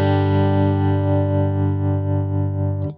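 Sustained electric guitar chord through a 1965 Fender Princeton Blackface tube amp with its vibrato set to intensity 3, ringing close and steady with a gentle pulsing wobble before it is cut off.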